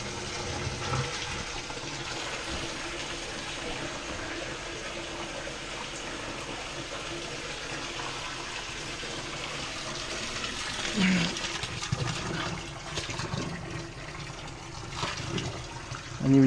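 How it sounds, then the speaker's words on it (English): A mini washing machine drains its water through a pump hose, a steady, quiet gushing and trickling wash that continues throughout with a few faint bumps and splashes near the end. "It's draining pretty fast."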